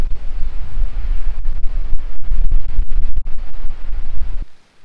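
Strong wind blowing across a microphone on a hillside hike in the Ardennes, a loud continuous rumbling roar with gusts that cuts out abruptly near the end.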